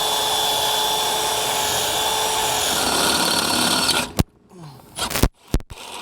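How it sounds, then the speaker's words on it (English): A power drill bores holes for mounting a Solera XL 12V power RV awning on a 2021 Keystone Raptor fifth-wheel toy hauler, a steady high whine for about four seconds, then a few short bursts. "So we'll go ahead, get this drilled out."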